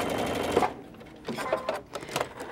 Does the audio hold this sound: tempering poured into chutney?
no